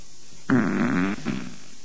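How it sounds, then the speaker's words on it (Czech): A loud, close fart rasps for about half a second with a buzzy, tonal flutter, then a shorter, softer tail follows, alone without talk. "teď jste nám slíbil, že tady nebudete dneska prdět"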